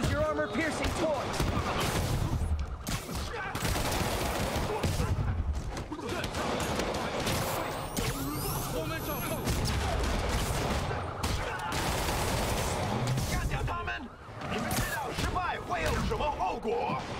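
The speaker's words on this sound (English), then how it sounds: "That shootout's gonna get someone killed." A gunfire shootout in Marvel's Spider-Man rattles on in dense, continuous volleys and sharp cracks, close and loud throughout, mixed with impacts and voices talking over the action.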